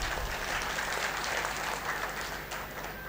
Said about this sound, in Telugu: నాతో సమ్మతించే వాళ్ళు గట్టిగా చప్పట్లు కొట్టవచ్చు.